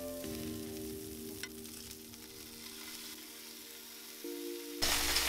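A New York steak fries in oil in a pan, giving a steady close sizzle and crackle with a low hum running underneath and a louder burst of sizzling near the end.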